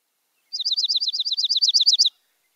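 A dark-eyed junco's song plays as a fast, even trill of about twenty bright, slightly warbly chirps over one and a half seconds, clear and alone against silence.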